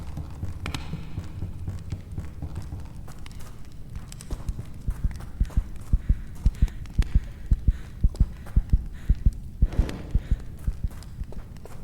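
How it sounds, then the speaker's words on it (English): A slow, steady heartbeat sound effect thumps in a horror video game as a torch fades, faint at first and then growing into clear, evenly spaced low pulses over a constant low hum. "Right before the torch starts to go out, you will hear a heartbeat effect."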